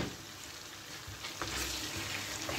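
Lamb and onions fry in a tagine while being stirred, a soft, close sizzle with light scraping, quiet and brief.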